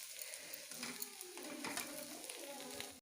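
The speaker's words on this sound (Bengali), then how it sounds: "বেশ মোচমোচা করে ভেজে নেব" Bitter gourd (karela) frying crisp in a pan, a steady soft sizzle with scattered crackles and pops throughout, cutting off abruptly at the end.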